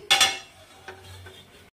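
A lid is set onto a cooking pot, giving a sharp metallic clink and clatter at the start, then a lighter knock, in a quiet kitchen.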